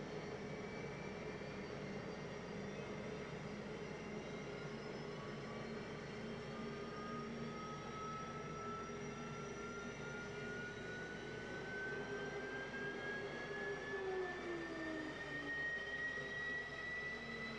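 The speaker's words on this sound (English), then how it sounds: "Engines running." F-15E jet engines in the DCS World flight simulator roar steadily after startup, a dense whine with rising and falling tonal sweeps, constant and fairly loud throughout.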